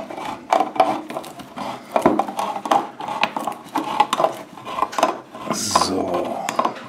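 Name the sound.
opening a tin can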